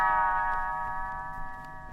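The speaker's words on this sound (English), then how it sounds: "You will know it is time to turn the page when Tinker Bell rings her little bells like this." Tinker Bell's little bells ring a bright chiming page-turn signal for a Sinbad the Sailor read-along story, a single clear shimmering ding that rings out and slowly fades, alone.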